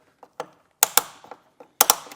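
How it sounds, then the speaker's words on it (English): A Yakima torque tool tightening a BaseLine roof rack on a 2025 Ford Maverick gives a few sharp, close mechanical clicks in small bursts, separated by short silences. "The Yakima torque tool is going to click once you get to the necessary torque tightness"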